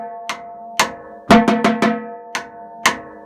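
A high school drumline's bass drums play a short two-measure figure together: a few spaced, ringing pitched hits, then a quick cluster of strokes and two final accents, loud and resonant with no voices.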